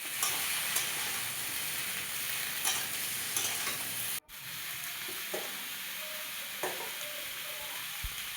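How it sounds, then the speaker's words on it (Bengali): Drumstick (sajne data) curry stirred and frying in a pan, a steady loud sizzle with scraping stir strokes throughout and a brief drop near the middle, no voices. "আবারও কিছুটা নেড়ে চেড়ে সজনের ডাঁটাগুলো দিয়ে দিচ্ছে।"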